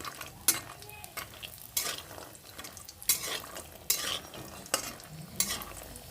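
Lentil dumplings (bori) fry in hot oil in a wok for a mixed vegetable curry, a steady close sizzle punctuated by repeated sharp scrapes and clanks of a spatula stirring against the pan.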